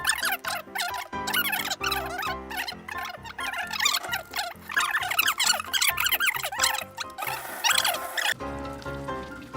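Rapid, high rubbing squeaks repeat in quick bursts as hands washed with a portable soap rub together, wet skin squeaking, close and fairly loud.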